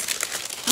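Crinkly packaging rustles and crackles sharply as a parcel box is opened, a brief, close burst of plastic crinkling.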